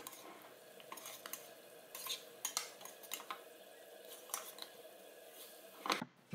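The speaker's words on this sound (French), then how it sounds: "je mélange bien pour lier tout ça, le beurre, la cannelle et puis le miel" Butter, cinnamon and honey stirred together in a pan for a poussin tagine with prunes and apricots, a spoon scraping and clinking in repeated quick strokes over a faint sizzle, fairly close and quiet.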